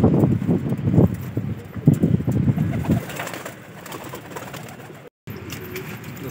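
Pigeons coo nearby in low, throaty bursts, with wings flapping and feet shuffling, then the cooing fades to quieter background activity.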